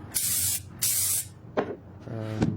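A spray bottle of cleaner puffs out two long, loud hissing sprays close by, followed by a couple of shorter, softer squirts.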